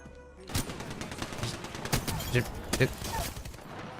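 Rapid automatic fire from the Devotion gun in the video game Apex Legends, dense overlapping shots in a sustained burst lasting several seconds, loud and close, with someone talking over it.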